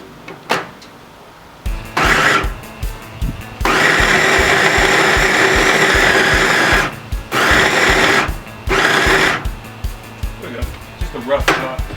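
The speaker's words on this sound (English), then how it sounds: "And I'm going to put it in the Ninja food processor. Just chop it up." A Ninja food processor roughly chopping bacon in short bursts, loud close whirring pulses of varied length separated by brief pauses, the blade stopping and restarting several times.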